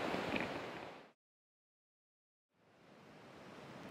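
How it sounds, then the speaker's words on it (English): Ocean waves washing ashore at Surf Beach, California, a soft broadband rush that fades out into a second of silence, then slowly swells back in, fairly quiet and distant. "Want to hear the waves in the background?"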